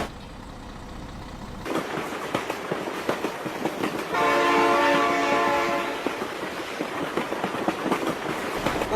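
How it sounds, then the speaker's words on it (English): A train rolls past close by, its horn blaring in a long steady blast midway through over loud continuous rail rumble and clatter, with no talk over it. "Oh my god, train!"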